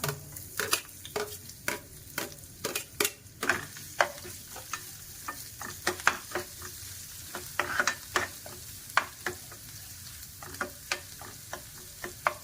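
Garlic and ginger frying in oil in a pan, a continuous sizzle broken by sharp, frequent spatula taps and scrapes against the pan, close and alone with no talking.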